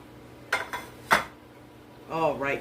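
Crockpot caramel peanut candy scooped into a lined muffin tin: two sharp metallic scrapes and clinks of a spoon against the pot, followed by a longer rattling scrape, close and moderately loud.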